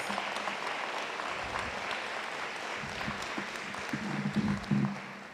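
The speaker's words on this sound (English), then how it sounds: "let's give them a round of applause" Steady audience applause at a school naming ceremony, honoring the students who welcomed the guests. The clapping holds at an even level throughout and swells briefly near the end.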